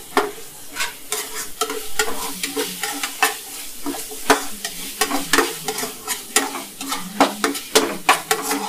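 Chicken pepper fry stirred on a low flame with chicken masala, steady sizzling under rhythmic, repeated scraping strokes of a spatula against the pan, close and clear, no talk.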